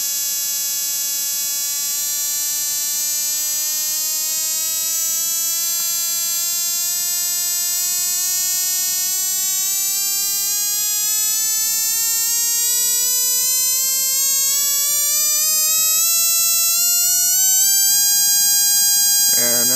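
An ignition coil driver whines with a steady buzzing tone whose pitch climbs slowly as its frequency is turned up, rich in harmonics, loud and close, ending in a brief jump.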